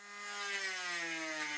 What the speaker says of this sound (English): Now it's time to try out for real my small Proxon router attachment